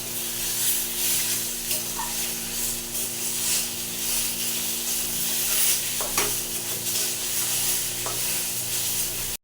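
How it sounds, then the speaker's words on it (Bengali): Vegetable chop filling with spices and peanuts is worked around a pan in a continuous hissing fry, with occasional spoon scrapes and taps against the metal, close up and fairly even throughout. "মশলাগুলো রেখেছিলাম এগুলো সব দিয়ে দেবো, আর বাদামটাও দিয়ে দেবো। দিয়ে ভালো করে মিশিয়ে নেবো।"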